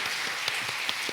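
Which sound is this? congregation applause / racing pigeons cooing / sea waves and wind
congregation applause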